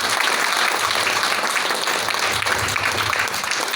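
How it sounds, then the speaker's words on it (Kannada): An audience gives dense, sustained applause for a guest, Dr. Afsar Hindustani, at a crowded live event: steady, loud clapping that fills the room for several seconds. "ನಿಮ್ಮ ಜೋರಾದ ಚಪ್ಪಾಳೆ ಬರಬೇಕು"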